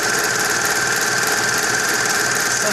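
A serger overlock sewing machine in a theatre costume shop stitches fabric with a fast, steady mechanical whir and buzzing hum, close and continuous, with no talking.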